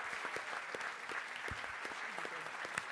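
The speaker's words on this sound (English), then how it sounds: "Ladies and gentlemen, one more round of applause for Mr. Wonderful, Kevin O'Leary." Audience applause at a live Shark Tank-style event, a steady dense wash of clapping from a crowd that carries through the whole stretch without letting up.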